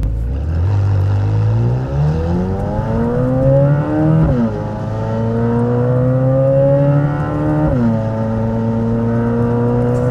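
A modified Chevrolet Corvette C8 Z06 engine hums smooth and loud, its drone climbing in pitch and dropping back at two gear changes, with no talking.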